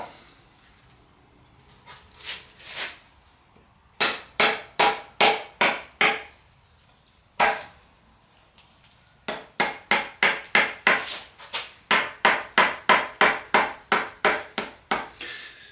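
Hammer and crowbar strike an engine oil pan sealed with liquid gasket, a few scattered knocks, then a steady run of sharp, close, loud metallic blows in quick rhythmic bursts.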